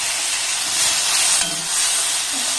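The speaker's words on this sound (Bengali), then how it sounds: "টমেটোটাকে দেখুন একটু হালকা করে ভেজে নিয়েছি" Tomato fries with onion and green chili in a pan, making a loud, steady, close sizzling hiss that swells slightly partway through, with no voices.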